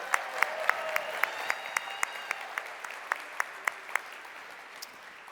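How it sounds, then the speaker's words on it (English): Rhythmic clapping from a convention crowd at a Lifewave event, sharp claps landing in steady unison about four times a second against a soft crowd wash, moderately distant and holding an even tempo throughout. "Give yourselves a round of applause."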